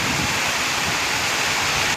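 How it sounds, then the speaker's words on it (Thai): Heavy rain pours in a dense, loud, unbroken hiss outdoors, with no voices over the steady wash. "พามาเบิ่งฝนตก"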